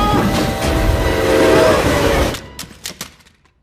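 A toy train in the 2017 film Tiny Christmas rolls past with a loud, steady rumble, then fades into a few sparse rattling clicks.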